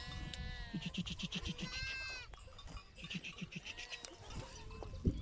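Young goat kids on their first day in a field bleat repeatedly in a quiet open space, several high wavering calls overlapping at a distance.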